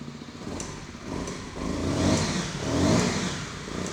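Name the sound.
SWM 125 R motorcycle engine revving with throttle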